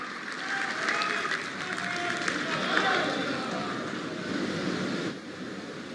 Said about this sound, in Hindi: जोरदार तालियों से हम सब इनका अभिनंदन करें